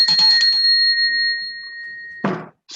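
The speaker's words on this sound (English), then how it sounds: "I've asked Samarah to ring the bell." A bell is struck, giving a bright sustained ring that slowly fades over about two seconds, near and loud, with brief clatter before it and a short noise burst at the end; nobody speaks.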